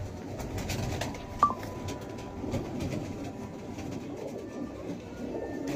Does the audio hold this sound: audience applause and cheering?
no